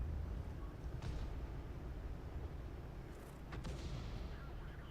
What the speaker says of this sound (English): And I'll shoot that IS-7 right in the back.